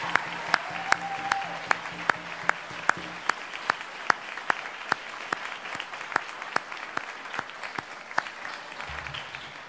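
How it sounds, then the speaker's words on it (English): An audience at a law school convocation gives steady, fairly quiet applause, with sharp individual claps standing out in an even rhythm above the room's general hum for several seconds. "If you would mind joining us and giving them a round of applause."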